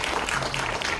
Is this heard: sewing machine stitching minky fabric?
no